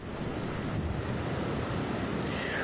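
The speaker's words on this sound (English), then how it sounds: "we can tell it's windy where you are" Strong wind roars steadily into the microphone one day before Hurricane Matthew, a dense continuous rumble and hiss with no pauses.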